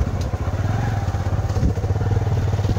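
Motorcycle riding along a village road with a passenger on the back, its engine a close, steady low chugging throb with some rattling and wind buffeting.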